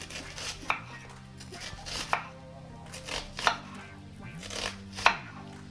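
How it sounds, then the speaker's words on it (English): A knife slices onions into thin strips on a cutting board, sending out a series of close, crisp chops at an uneven rhythm with no voices. "And for the onions, I just like to cut them into little thin strips."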